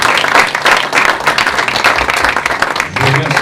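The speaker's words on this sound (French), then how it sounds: "Donc vous pouvez applaudir les professeurs." An audience in a lecture amphitheatre applauds the professors, loud close-up clapping with audible individual hand claps in a lively, uneven rhythm, a voice briefly emerging near the end.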